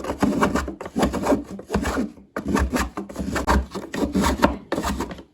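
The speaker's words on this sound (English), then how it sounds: "Now I'm going to add some of the white chocolate. This is quite a lot easier to grate." A white chocolate bar is grated into shavings, making close, rhythmic rasping strokes, about six scraping bursts with short pauses between them, and no talk.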